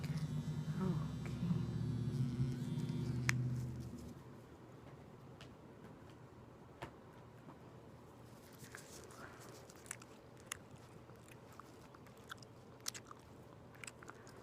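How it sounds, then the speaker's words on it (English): Someone chews loudly with moist, crunchy bites and scattered clicks during a dental cleaning, after a loud whirring dental instrument cuts off early. "I'm sorry if I'm chewing loud."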